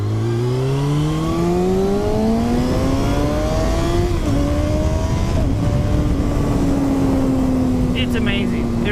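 A 2020 Kawasaki Ninja 636 sport bike drones loudly while being ridden, its engine pitch climbing and shifting through the gears under constant wind rush.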